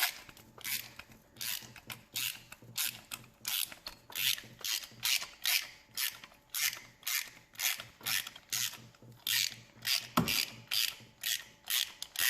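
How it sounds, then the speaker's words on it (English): A ratchet with an extension and a 5/8 spark plug socket works loose a car's old spark plug at 106,000 miles, giving rhythmic, repeated close clicking strokes in steady bursts. "all you need next is just a ratchet, an extension, and in this case a 5/8 spark plug socket."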